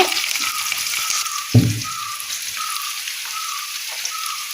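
Curry leaves hit hot oil with jackfruit chips, giving a brief loud burst of sizzling, then a steady, soft crackle and hiss of frying that continues close by.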